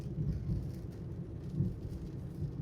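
Steady rain falls on a Baghdad street during a December downpour, a continuous low wash of drops with no talk, heard close and evenly loud throughout.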